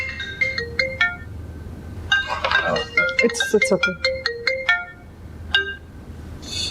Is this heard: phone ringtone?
yes